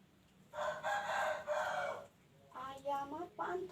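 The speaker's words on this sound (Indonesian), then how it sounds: "Ayam apaan tuh sayang?" A rooster crows loudly nearby, one long call followed by a shorter second crow, with a faint hum in the background.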